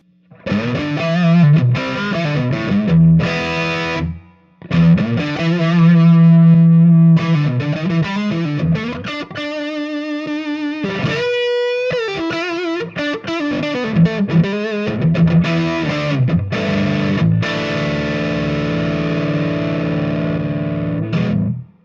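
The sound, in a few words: electric guitar through EQ pedal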